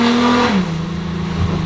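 A diesel-swapped Nissan GT-R engine and turbo roar close and loud while accelerating, then the pitch drops briefly as the gear changes and the engine pulls on.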